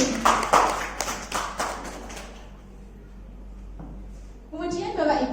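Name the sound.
audience applauding teachers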